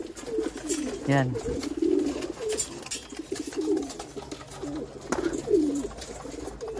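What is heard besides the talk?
pigeons cooing in breeder cage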